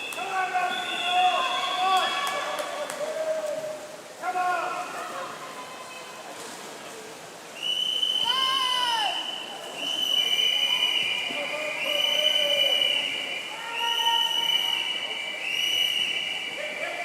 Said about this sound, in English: Get ready to hear some whistles for the first time today.